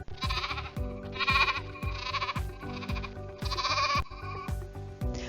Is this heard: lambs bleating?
yes